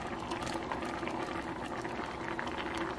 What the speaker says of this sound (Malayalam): എരിശേരിയിലെ മത്തനും മമ്പയറൊക്കെ നല്ല പോലെ തിളച്ച് മിക്സ് ആയിട്ടുണ്ട്